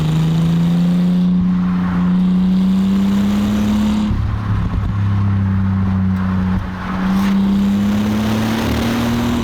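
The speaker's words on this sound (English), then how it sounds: "It's not the most sonorous engine, really, but you can't doubt its effectiveness." A first-generation Bentley Continental GT's engine drones loudly and steadily at constant revs, with a brief dip and recovery midway and no voices.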